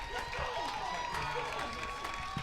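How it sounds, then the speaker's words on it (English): After a game-tying home run at a college baseball tournament game between Adrian and Kalamazoo, the crowd and bench roar in a steady, broad wash of cheering and clapping, with a commentator talking over it. "Bulldog bench erupts. Crowd is on their feet."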